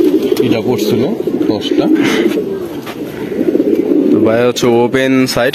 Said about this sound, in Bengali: এটা আমার টুর্নামেন্টে আসা কবুতর